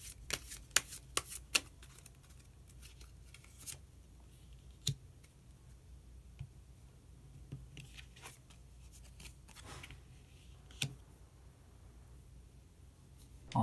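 Tarot cards being shuffled and drawn, a run of soft papery riffles and sharp flicks clustered early, then sparser taps and slides, close and quiet with no talking.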